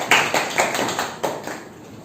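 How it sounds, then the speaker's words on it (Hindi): A classroom of students gives applause for Hema madam, a short burst of about a dozen loud, distinct claps in an uneven rhythm that thins out and fades within two seconds. "हेमा मैडम के लिए जोरदार ताली बजा दीजिए"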